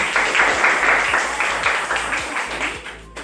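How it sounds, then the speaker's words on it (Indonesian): A classroom of pupils claps their hands in applause, a fairly loud, steady patter of many claps that thins out toward the end. "Ya tepuk tangan"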